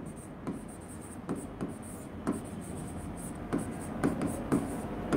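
Chalk or marker scratching on a classroom board during a physics lecture, a series of short strokes and taps over a steady hum of room noise.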